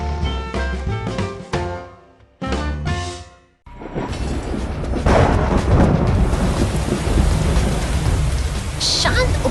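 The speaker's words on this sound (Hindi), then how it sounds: "शांत उपनगरीय गलियों में बारिश की फुहारें गिर रही है" After a few seconds of music, steady heavy rain pours down over quiet suburban streets, with a deep rumble of thunder rolling through the downpour; the sound is loud and continuous.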